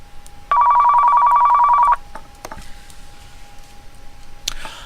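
A telephone rings in the video game Car Mechanic Simulator 2015 as a single steady electronic trill lasting about a second and a half. Faint clicks and a brighter burst follow against a quiet background with no talk.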